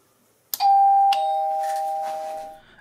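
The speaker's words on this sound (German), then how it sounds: "es hat geklingelt." A two-tone electronic doorbell chime rings once, clear and close, its second tone sustaining and fading slowly in a quiet room.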